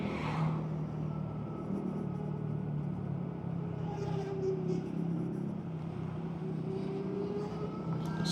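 Steady car traffic headed to a fireworks display, a continuous low rumble of engines and tyres, fairly close and unbroken for the whole stretch with no talk.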